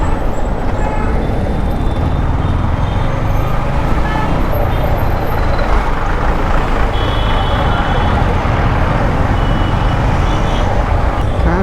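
Dense road traffic in hot sun during a Yamaha MT-15 V2 motorcycle ride, with a loud, constant roar of trucks, buses and cars close by and faint beeping tones mixed in.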